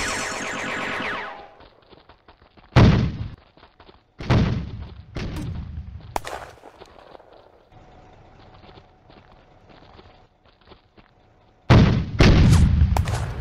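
Heavy gunfire in a World War II combat video game set at Hill 112 in May 1940, with several sharp loud bursts of shots and booms spaced out over quieter stretches, and the last burst heavy and sustained.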